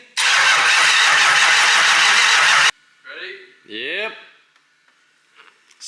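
At a Formula Drift event in Seattle, a car engine cranks loudly and steadily for under three seconds, then cuts off abruptly. Voices follow in the quieter remainder.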